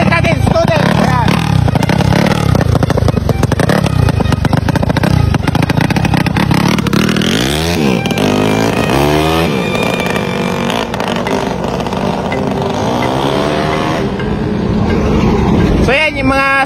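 Motorcycles ridden by students during riding lessons rev and accelerate up close, the engine pitch rising and falling repeatedly under constant loud chatter.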